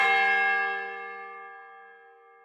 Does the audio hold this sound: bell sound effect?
yes